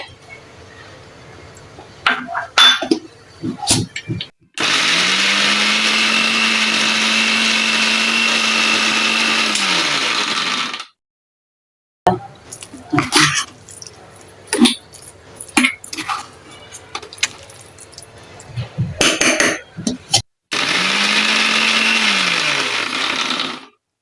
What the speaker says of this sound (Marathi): चला आता आपण कॉर्न बारीक करून घेऊया जे मगाशी उकडलेले होते